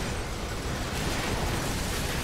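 A video-game explosion in Earth Defense Force 5 roars as a dense, sustained blast of noise for a couple of seconds, loud and unbroken, with no voices over it.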